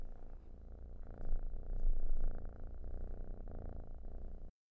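A cat purrs close up in a steady, rumbling rhythm that swells slightly midway through and continues alone without any talk.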